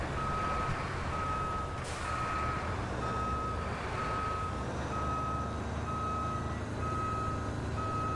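A truck reverses in the Roadcraft video game, its backup alarm repeating evenly spaced beeps over a constant engine drone, with no talk.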